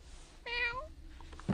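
A single cat meows once on a quiet street, a clear, drawn-out call, close and alone, followed by a brief soft thump.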